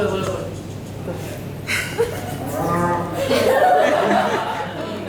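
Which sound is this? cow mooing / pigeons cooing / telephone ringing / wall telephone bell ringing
cow mooing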